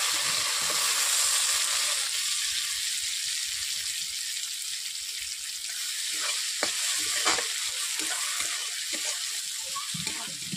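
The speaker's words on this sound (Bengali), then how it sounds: "আদাগুলো ভাজা ভাজা হয়ে গেছে" Continuous frying sizzle of ginger paste in a pan, with intermittent scraping and clinking as it's stirred; no talking.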